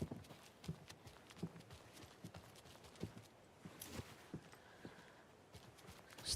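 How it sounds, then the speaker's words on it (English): Faint footsteps in Alan Wake 2, a steady run of soft thuds in an even walking rhythm, quiet and somewhat distant with no talking over them. "I hear footsteps."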